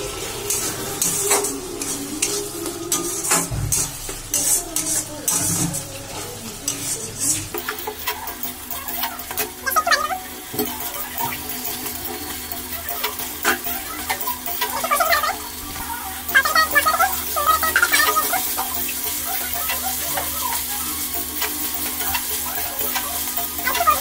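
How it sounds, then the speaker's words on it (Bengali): Spice masala with small green chillies being sautéed in a pan, a steady close sizzle and frying hiss with stirring scrapes, running continuously and alone, growing slightly brighter partway through. "এখন একটু কষাবো মশলাটাকে।"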